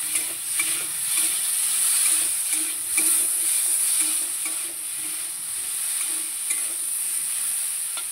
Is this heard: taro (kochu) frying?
yes